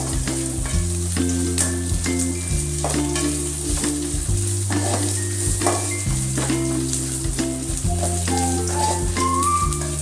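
Chillies and tomatoes frying in hot oil in a pot for a fish curry, a steady dense sizzle with occasional stirring scrapes, close and continuous, while music plays throughout and no one talks.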